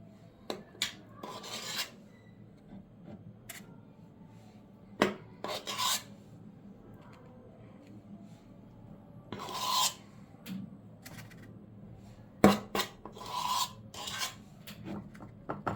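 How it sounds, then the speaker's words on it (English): Orange cake batter is scooped into cupcake and cake pans, with intermittent scraping and rasping of a utensil against the pans in short bursts separated by quiet pauses. "So we finished scooping out the orange cake"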